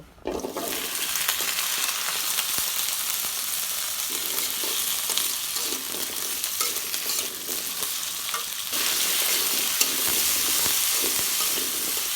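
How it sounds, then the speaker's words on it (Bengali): Potatoes crackle and sizzle in hot oil in a karai, a dense, continuous close frying hiss with occasional stirring scrapes, briefly swelling louder near the end. "তেল গরম হয়ে গেছে, আমি আলুগুলো দিয়ে দেব।"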